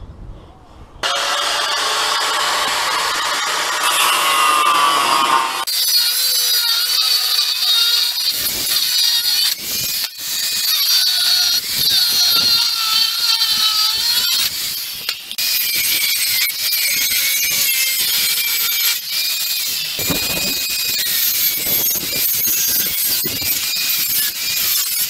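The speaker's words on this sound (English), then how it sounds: "from this scrap here, I'll cut a couple of 100mm lengths so I can weld to give some support for the concrete" Scrap metal stock cut into 100mm lengths for welding, a loud, continuous high-pitched grinding shriek that stops and restarts in long passes, with short pauses between cuts.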